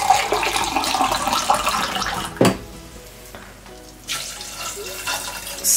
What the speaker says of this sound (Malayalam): കടലയുടെ നെഗത്തെ ഞാൻ വെള്ളം ഒഴിക്കണേ